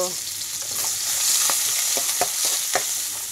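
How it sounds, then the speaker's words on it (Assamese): Sliced onions frying in hot oil in a wok, a loud, continuous close sizzle broken by short scraping stirs, with no voices. "পিঁয়াজ ভাজি দিছোঁ।"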